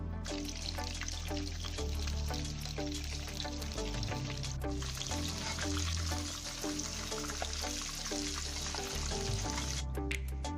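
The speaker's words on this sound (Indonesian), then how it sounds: "Goreng tahu terlebih dahulu hingga tahunya menjadi kering di seluruh permukaannya" Steady frying sizzle of tofu in hot oil, continuous and fairly loud throughout, with no voices.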